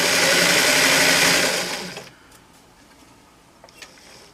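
A sewing machine runs fast stitching an elastic waistband, a loud whirring burst for about two seconds before stopping, followed by quiet handling and small clicks.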